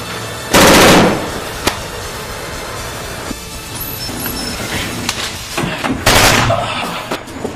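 Gunshots in a movie hostage-rescue scene: a loud, sharp burst of rapid fire followed by scattered single shots and impacts, then another heavy burst, all close and punchy.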